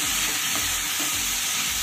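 Sliced onions with a pinch of sugar sautéing in a pan for a tengra fish curry, with a steady loud sizzle and soft scraping strokes of a spoon stirring at a slow, even rhythm.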